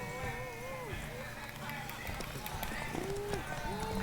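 Horse galloping in The Witcher 3 during a horse race, rapid steady hoofbeats running under constant game music and spoken dialogue, with people talking throughout.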